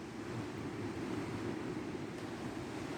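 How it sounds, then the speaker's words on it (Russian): Large sea waves surging and breaking continuously with steady rushing surf, heard fairly close under wind noise, with no talk. "Волна большая, но не такая, как была позавчера."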